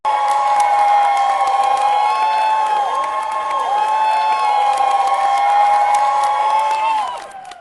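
A crowd cheers and roars steadily in a championship stock-car racing video game, layered over droning engine whines, loud and continuous before tapering off at the end.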